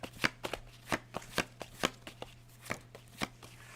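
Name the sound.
shuffling cards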